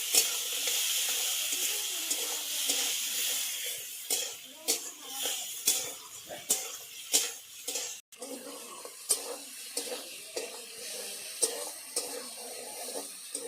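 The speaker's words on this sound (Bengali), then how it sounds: "বেটে রাখা আদা, জিরে, লঙ্কা দিয়ে দেবো। নাড়াচাড়া করে দেবো ভালো করে।" A paste of ground ginger, cumin and green chili is stirred in a pan for a light ridge gourd and prawn curry, with steady sizzling hiss and repeated scraping clicks of a spatula throughout.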